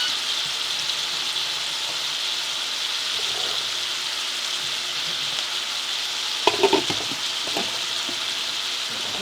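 Asparagus sautéing in a skillet makes a steady, bright sizzle throughout, with a short burst of clattering stirring near the end.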